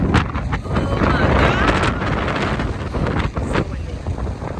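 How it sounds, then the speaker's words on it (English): Heavy wind in Key West buffets the microphone with a constant roaring rumble, broken by a few sharp gusts and clicks, and speech is partly buried underneath. "It's so windy right now."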